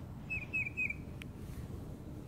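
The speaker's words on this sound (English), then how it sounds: "Sorry if you hear chirping." A small bird on a branch gives three quick, high, clear chirps close together, faint over a low background hum, followed by a single short click.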